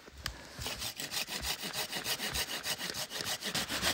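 A Silky Pocketboy folding saw cuts through wood at a snowy winter camp, with a fast, steady back-and-forth rasp of strokes, close and loud, and no talking.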